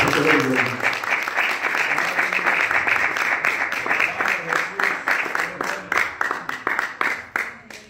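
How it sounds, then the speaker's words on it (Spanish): A church congregation claps for the Lord, a sustained wave of applause that settles into rhythmic, increasingly distinct unison claps toward the end, with voices mixed in. "Yo quiero que le dé un aplauso al Señor."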